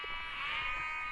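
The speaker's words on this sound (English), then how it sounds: "We've got cows and sheep all competing to make the loudest noise." A single sheep bleat rises and fades over roughly a second in open Peak District countryside, moderately near and heard alone, with no cow audible.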